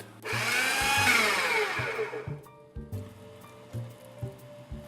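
A food processor pureeing navy beans with asparagus, shallots and garlic: a loud motor whir for about two seconds that winds down, followed by a few short thumps and clunks.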